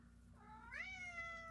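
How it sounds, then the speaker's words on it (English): A pet cat gives a single rising, drawn-out meow in the background of an indoor room, faint and close over a low steady hum, with no one speaking. "I apologize for the meowing in the background"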